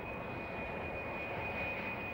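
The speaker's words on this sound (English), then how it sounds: "Concorde now flies three times a day from London and Paris to New York." Concorde supersonic airliner in flight: a steady, loud roar of jet engines fills the clip with broadband rushing noise and a thin constant whine, no voices.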